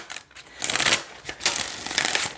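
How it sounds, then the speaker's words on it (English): A deck of glossy oracle cards being shuffled by hand, giving close, crisp bursts of riffling and sliding card noise in several quick passes, with no talking. "so let's go ahead and shuffle"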